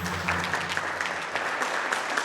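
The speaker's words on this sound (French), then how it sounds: "Le collège Jean Zay est applaudi et obtient la mention bien" A modest group applauds a middle school team, scattered clapping with distinct individual claps over a low hum, fairly quiet and steady for a couple of seconds.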